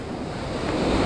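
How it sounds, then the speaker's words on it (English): Ocean surf breaks over a sandbar at a beach where someone is fishing for surf perch: a brief rushing wash of waves mixed with wind noise that swells louder toward the end. "all those waves that were breaking"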